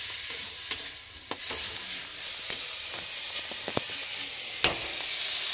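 Desi onions sizzle steadily as they fry in a pan, with a spoon stirring and scraping in scattered clicks and clanks, close and moderately quiet throughout.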